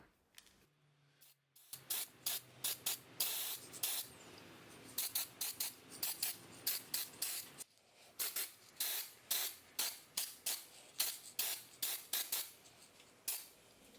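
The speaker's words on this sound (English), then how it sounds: "just doing some acrylic spraying there" Acrylic spray paint hisses onto an old bike lamp in a long series of short, close bursts, sharp and rhythmic, separated by brief pauses, with no talk.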